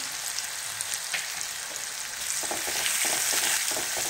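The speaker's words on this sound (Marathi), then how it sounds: "आणि आता हे छान सगळे तेलात परतून घेऊया" Finely chopped onion with crushed garlic sautéing in oil, a bright continuous sizzle that grows louder and busier midway as stirring scrapes join in.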